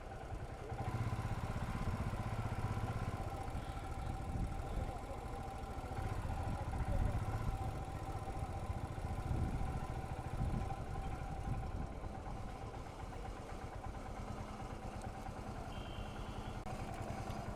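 A cluster of motorcycles idles, stuck in a dense traffic jam on the road from Kolkata to Prayagraj for the Kumbh Mela. Low steady engine rumble with light clatter continues throughout, moderately distant and fairly quiet, with no talk.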